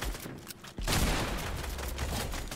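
Rapid bursts of gunfire from several weapons in a Fortnite Arena Trios match crackle in a dense, continuous volley, starting sparse and then swelling loud after a sharp crack.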